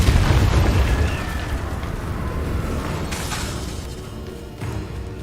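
A Repulsor spell blast in Hogwarts Legacy, a loud booming burst at the start that rolls off into a rumbling decay, with a softer thump near the end.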